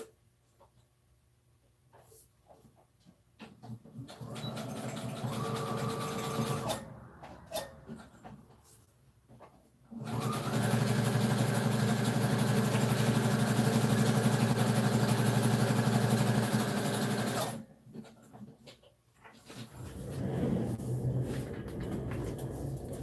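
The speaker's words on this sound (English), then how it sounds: "My bobbin just ran out in the middle of me stitching" A sewing machine stitches on a paper craft time-card booklet in loud, close bursts, a short run and then a long steady run, with quieter handling gaps between them.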